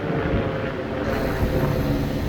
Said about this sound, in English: like helicopter going by